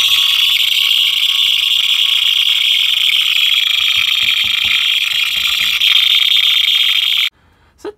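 A fire alarm horn blares continuously in a loud, steady pulsing tone for several seconds, then cuts off abruptly, leaving near silence.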